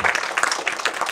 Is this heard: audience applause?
yes